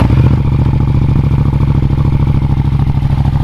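Yamaha MT-07 motorcycle engine running at idle, a loud close rapid rhythmic throb with a steady mechanical clatter and no talking.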